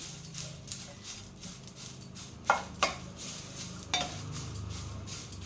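Curry leaves slowly roasting on low heat in a pan, with a faint sizzle and several sharp metallic clinks and scrapes from a spoon stirring against the pan.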